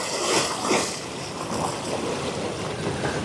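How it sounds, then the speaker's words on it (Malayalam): A child splashes and plays in water at a monsoon-fed spot in Kerala, the splashing blending into a steady broadband wash of flowing water with a few louder surges. "ഈശാനാണ് വെള്ളത്തിൽ കളിക്കുന്നുണ്ട്"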